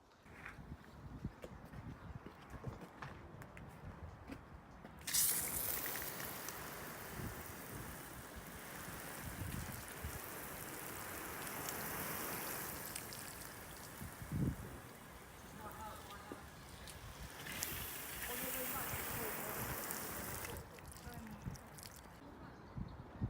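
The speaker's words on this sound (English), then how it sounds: "let's go out now and put a hose on it" A garden hose spraying water onto a car roof, a steady broad hiss and splatter that starts abruptly about five seconds in, surges again near eighteen seconds and stops near twenty, with someone talking over parts of it.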